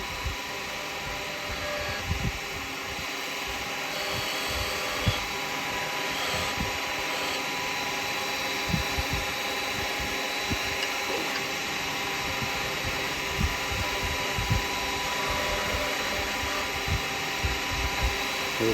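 Square carbide tool cutting a spinning Christmas decoration on a woodturning lathe, a steady whirring hum with scattered scraping ticks and small catches throughout, close and continuous with no talk.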